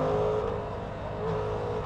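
A Suzuki GSX-8S motorcycle engine hums close by at steady revs during a quick shifter downshift, a brief continuous drone with a slight dip and swell in level.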